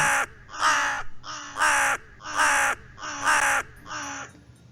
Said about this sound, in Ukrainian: Ворона.